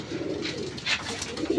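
A pigeon coos softly and close by, low rounded calls repeating over a quiet background.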